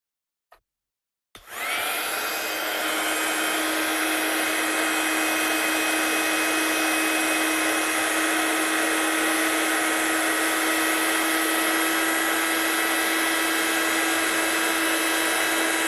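A heat tool used to heat-set embossing on a papercraft card switches on after a brief click, then blows with a steady, loud, even whoosh and a high whine that continues unbroken to the end.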